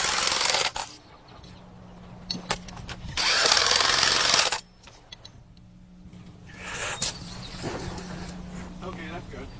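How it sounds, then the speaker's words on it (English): Impact wrench tightening nuts onto sill bolts on mudsills during floor framing: two or three loud, rattling bursts of several seconds each, separated by quieter handling noise and someone talking. "I like to tighten them down with an impact wrench"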